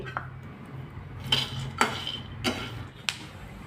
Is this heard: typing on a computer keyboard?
no